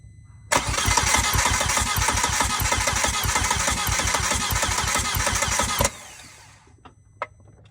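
A 2004 Audi A4 B6 with the 1.8T turbo engine cranks on its starter in a rapid, even chugging rhythm for about five seconds, loud and close, before cutting off into quiet.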